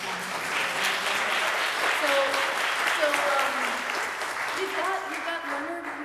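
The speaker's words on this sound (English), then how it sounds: "can we give them another round of applause?" An audience at a Glastonbury gathering gives sustained applause for a performance. Voices and some tonal sounds run over the steady clapping.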